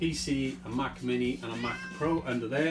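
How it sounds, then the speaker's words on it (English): A cat meows repeatedly close to a microphone in an indoor room during a livestream, with several short, insistent calls mixed in with someone talking. "Right, that's my cat."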